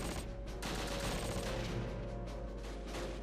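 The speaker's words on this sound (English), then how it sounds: "We're opening fire from everywhere." Gunfire in the World War II strategy game Close Combat Last Stand Arnhem: a dense, continuous clatter of rapid shots and bursts, some nearer and sharper, layered over a rumbling background.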